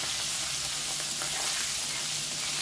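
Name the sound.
prawns frying in hot oil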